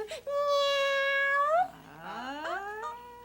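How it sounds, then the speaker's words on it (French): A long, drawn-out cat meow, loud and close, followed by a second, rising meow that trails off. "Oui, c'est ça, un miaou. Un chat."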